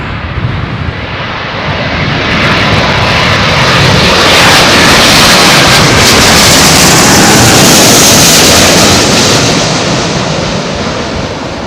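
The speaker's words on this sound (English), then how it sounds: "this is a 777, what looks like a 200, and just looking at the engine size, I'm thinking this is a Rolls-Royce powered jet" A Boeing 777-200 with Rolls-Royce engines lands on runway 27L at London Heathrow in a southwesterly crosswind. It gives a loud, continuous broadband engine roar that swells and holds steady throughout, heard close by with no voices.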